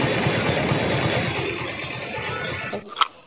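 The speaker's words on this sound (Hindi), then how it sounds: "ये है बाइक मोटरसाइकिल, कितनी प्यारी से प्यारी है बाइक मोटरसाइकिल" Cartoon motorbike engine, a steady rattling buzz that fades slightly and then stops, ending with a brief click.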